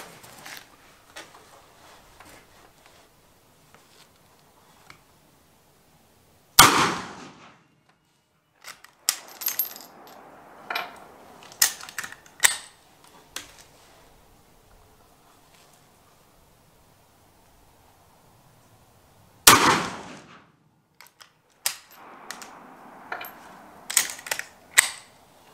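Two sharp reports from a Savage 22 Hi-Power varmint rifle at the range, each a sudden close crack followed by a short run of clicks and clatter from working the action.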